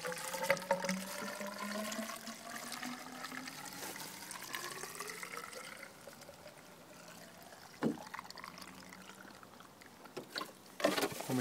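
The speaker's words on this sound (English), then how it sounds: "and we tip the water" Water tipped out of a geocache container, pouring and gurgling with rising tones that fade, followed by a few louder knocks and splashes near the end, with no voices.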